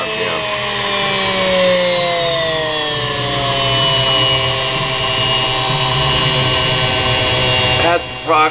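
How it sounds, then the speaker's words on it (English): A homemade mini bench grinder driven by a sewing machine motor on a Variac, whining steadily and loudly with rising and falling tones as the speed shifts, briefly dipping near the end. "I don't know if I'll ever run it real fast speed."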